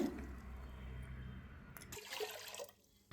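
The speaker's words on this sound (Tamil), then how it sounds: "சேர்த்துட்டு ஒரு மூணு கப் தண்ணி சேர்த்துக்குங்க" Water pours in a steady stream into a metal pressure cooker, splashing and gurgling for a few seconds before stopping.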